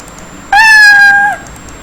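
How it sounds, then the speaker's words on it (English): A single cartoon cat meow played by a Scratch sprite, clear and loud, rising then falling over about a second, alone against near silence. "And also playing a sound, a meow sound, a sound of cat."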